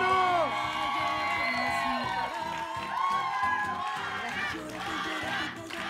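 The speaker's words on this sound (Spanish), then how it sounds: "¡Otro aplauso, cómo no!" A studio audience cheers and whoops loudly and steadily to welcome a guest on a Mexican television variety show, with a dense crowd roar and excited shouts throughout.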